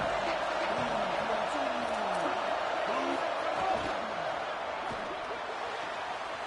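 Steady roar of a stadium crowd in the EA NCAA 27 college football video game, a dense wash of noise running throughout beneath a commentator's voice.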